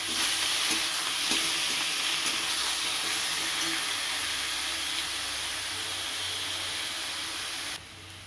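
Chicken sizzles steadily in a hot pan for a Bengali-style chicken dish, a dense, even frying hiss with occasional stirring scrapes, close and continuous, without any talking.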